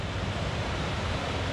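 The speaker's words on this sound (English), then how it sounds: "And the water's running okay, but not like it was back during the spring." A river in Gardiner, Maine flows at a moderate level, giving a steady, even rush of water that carries on without pause and is heard alone, with no voices.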